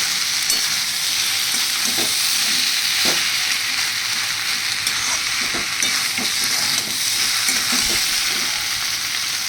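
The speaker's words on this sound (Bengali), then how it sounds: "এবার আমি এর মধ্যে আলু আর সয়াবিনটাকে দিয়ে দিই। আর কিছুক্ষণ কষাবো" Potatoes and soybean chunks frying in hot oil while being stirred, a continuous loud sizzle with repeated scraping and clacking of a spoon against the pan, no voices.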